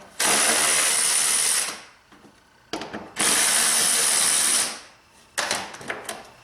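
A power tool removes screws from the bumper of a BMW 5 Series F10, with two loud whirring bursts of about a second and a half each. Short mechanical clicks and rattles come between and after the bursts.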